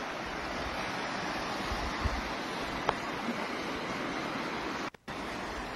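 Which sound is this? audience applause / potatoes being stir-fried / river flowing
river flowing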